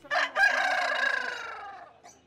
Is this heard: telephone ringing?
no